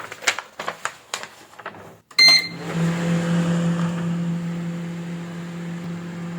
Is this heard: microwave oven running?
yes